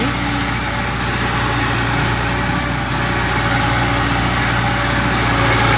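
A tractor engine runs in second low gear, a steady loud low rumble with constant drone and no change in pace throughout.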